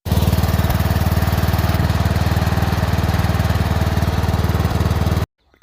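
A small lawnmower engine runs smoothly and loudly at close range, a fast steady putter that holds for about five seconds, then cuts off abruptly.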